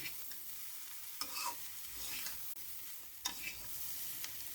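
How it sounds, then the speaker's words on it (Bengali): Bitter gourd frying slowly in a pan, heard as a soft, even sizzle with a few light scrapes of a stirring spoon, faint and close, with no voices. "আমি এভাবে আস্তে আস্তে ভেজে নেব"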